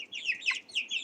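Tiny chicks clucking softly at bedtime, a quick run of high chirpy clucks close by, several short calls in about a second.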